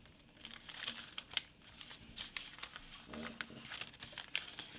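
Paper crinkles and crackles in repeated short bursts as it is folded and creased into an origami turtle, close up, with a person talking throughout.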